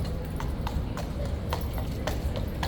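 Horse hooves clip-clop in a steady, uneven rhythm on a hard surface, close by, over a constant low rumble.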